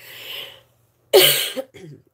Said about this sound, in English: Again, sorry for the coughing.